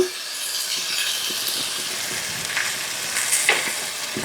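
Beaten eggs sizzle and fry in a pan with drumstick leaves, a steady bright crackling hiss with small pops and scrapes, close and alone.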